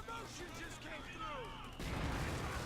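Mortar fire in a World War II real-time strategy game, Wehrmacht versus US forces: distant crumps and battle noise build to a louder, sustained roar of blasts toward the end, while a commentator talks over it.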